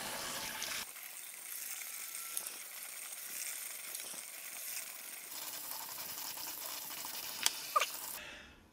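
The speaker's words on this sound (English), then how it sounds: "washing the carrot, but it's worth it." Tap water runs steadily into a sink while a carrot is washed by hand, a soft continuous splashing rush with a couple of faint knocks near the end before it cuts off.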